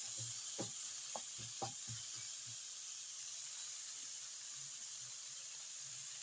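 Squash and eggplant sautéing in a pan, a soft continuous sizzle with a series of quick scraping stirs early on, then a steady, quiet frying hiss.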